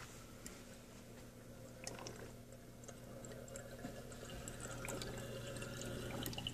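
Water draining from a reef aquarium sump down through the overflow and return line, a steady low trickle and gurgle with scattered faint drips over a constant pump hum, quiet and close.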